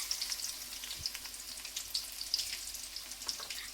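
Thinly sliced onions frying in plenty of oil in a kadai for a fish curry, a faint, even crackle with scattered small pops and no voices.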